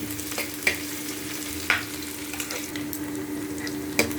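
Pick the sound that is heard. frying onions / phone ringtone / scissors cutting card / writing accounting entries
frying onions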